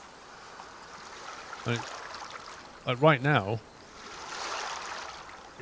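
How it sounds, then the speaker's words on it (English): Soft, steady water lapping at a seaside in the hunting video game Way of the Hunter, a faint continuous wash beneath a few brief spoken words. "Lapping water at the seaside."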